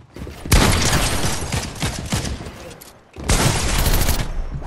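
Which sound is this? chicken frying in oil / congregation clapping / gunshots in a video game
gunshots in a video game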